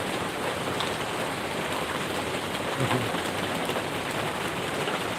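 Heavy rain falls without pause, a thick even hiss of drops striking nearby surfaces, with one brief low thump partway through.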